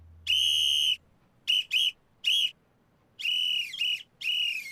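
An anime character from Fire Force speaks in whistles: a series of shrill, clear whistle bursts, one long, then short paired toots, then longer phrases with slight pitch bends, loud and close with silence between.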